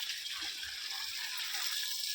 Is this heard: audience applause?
no